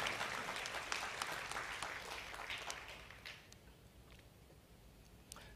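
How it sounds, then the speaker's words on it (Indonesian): Applause from a church service audience, dense clapping that stays steady and then thins out toward the end, with a few scattered claps near the close. "Tepuk tangan jangan tanggung-tanggung."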